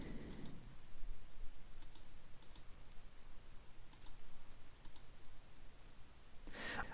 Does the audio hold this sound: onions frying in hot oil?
no